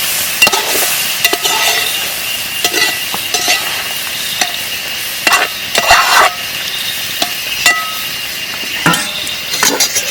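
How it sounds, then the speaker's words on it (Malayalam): Papaya stirred into chicken roast frying in a pan, close scraping and clinking of a spoon against the pan over a steady sizzle, in repeated strokes. "ഇതിലേക്ക് നമ്മുടെ പപ്പായയും കൂടെ ചേർത്ത് കൊടുക്കാം ചേച്ചി വെച്ചിരുന്ന പപ്പായയും കൂടെ ഇട്ട് നന്നായിട്ട് മിക്സ് ചെയ്യാം"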